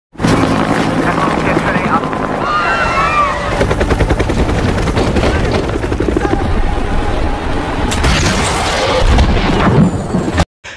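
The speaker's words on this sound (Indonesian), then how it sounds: "terlihat helikopter India yang berhasil dijatuhkan oleh Nick." A helicopter's rotor thuds loudly while gunfire crackles in bursts and voices shout over the chaos as the helicopter is shot down in a film scene.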